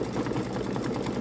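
A Babylock Solaris Vision embroidery machine stitches out a flower design with a steady, rapid mechanical whir and rhythmic needle pulses, close and continuous with no talking.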